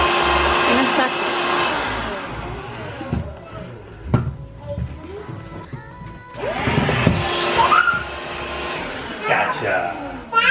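A household vacuum cleaner runs in short, loud bursts of whirring motor noise that start and stop, with people talking over it and between the bursts.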